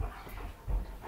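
A scared dog whimpers and pants softly indoors, with faint breathy whines and a low thump near the end, heard alone without talk.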